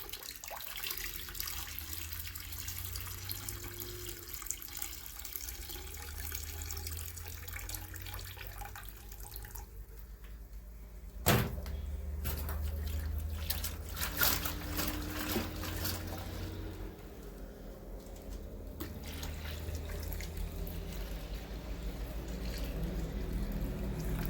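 Water trickles and splashes as sand and black sand are rinsed in a prospecting pan, a soft steady flow with a sharp knock near the middle before the sloshing grows slightly louder.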